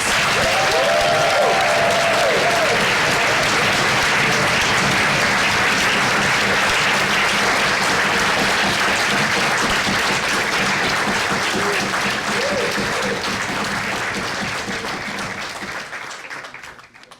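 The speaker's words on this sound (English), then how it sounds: "Let's give Robin a final round of applause" A lecture audience gives Robin Walker a final round of applause after his talk on the civilization of the Moors, a long, dense, loud roar of clapping that holds steady before gradually fading at the end.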